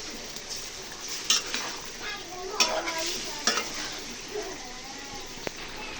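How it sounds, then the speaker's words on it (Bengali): Duck meat and potatoes being stir-fried in a pan, with quick, irregular scrapes and clanks of a spatula against metal over a low sizzle, while a voice speaks faintly in the background. "আলু সহ মাংসগুলোকে একসাথে কষিয়ে নিব।"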